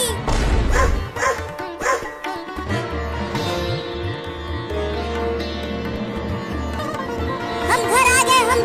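A cartoon puppy barks and yips over music, a few sharp barks at the start and again near the end, loud and up front in a comic animated Holi scene.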